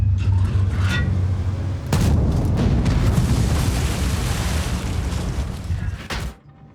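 A tank cannon shot and heavy artillery explosion boom in World of Tanks, a deep blast followed by rumbling, crackling debris and sharp transients, fading out near the end.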